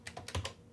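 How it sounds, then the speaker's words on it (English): Keys clack on a Tandy Color Computer keyboard in a short burst of about five quick, close, crisp keystrokes with no voices. "This feels much nicer to type on. So I'm gonna type out"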